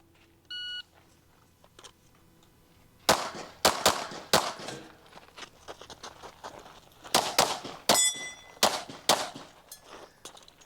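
A shot-timer beep starts an IDPA pistol stage, and after a pause a shooter fires rapid pistol shots at targets in two close bursts, loud and sharp with echoes between them.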